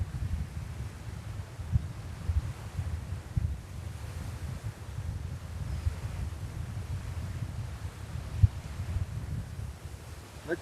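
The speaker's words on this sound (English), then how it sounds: "I know it's very windy, guys. It's actually stormy." Strong stormy wind at JFK airport buffeting the microphone in a steady low rumbling roar with occasional gusty thumps, no voices.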